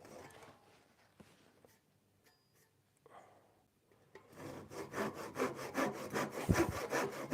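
A dull hand saw cuts through wood, starting with a few faint taps and scrapes, then breaking into loud, rhythmic rasping back-and-forth strokes close by over the last few seconds.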